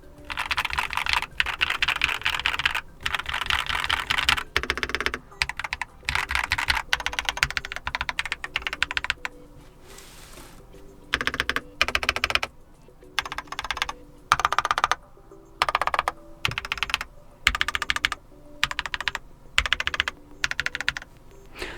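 Steady bursts of typing on a Keychron K8 QMK mechanical keyboard, close and clear, with rapid clacky keystrokes broken by short pauses and no talking.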